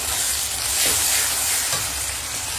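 A paste of ginger, garlic and cumin with Kashmiri chili, turmeric and dry chili powders fries in a pan for a chickpea curry, making a loud, continuous close sizzle with a couple of soft stirring scrapes and no voices.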